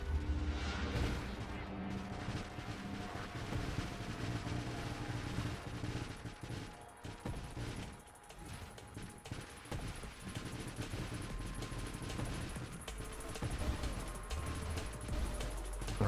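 Mines in an action video game detonate immediately as they are laid, producing a steady cadence of missile blasts: rapid, repeated popping explosions layered over constant combat noise, moderately loud for the full stretch.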